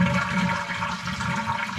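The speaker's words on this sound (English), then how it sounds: "Drain the toilet tank." Water rushes steadily as a toilet tank flushes and drains, a continuous close gurgling roar with no talking.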